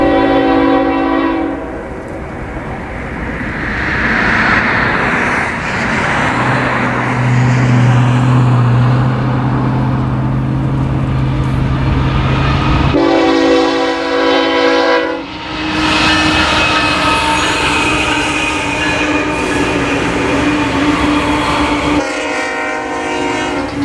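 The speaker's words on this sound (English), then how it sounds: "there's a stack train coming" A stack train passes in Southern California, sounding its horn in long blasts with pauses between, while the heavy rumble and rolling clatter of the cars stay loud and close throughout.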